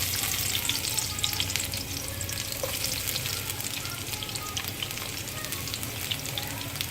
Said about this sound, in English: I'm going to add in the garlic.